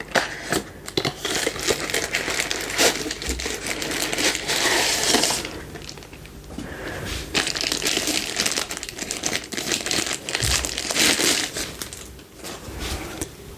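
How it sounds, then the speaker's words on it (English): Plastic and cardboard packaging of an Xbox One keypad accessory crinkles and crunches up close in long, dense bursts with short pauses while the box is opened. "Let's go ahead and take this out of the box."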